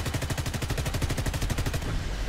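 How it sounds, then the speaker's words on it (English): Rapid bursts of 20 mm cannon fire from an aircraft in the combat game War Thunder, a steady stuttering rhythm of loud, punchy shots for about two seconds before trailing off. "That's the new 20 mil cannon sounds."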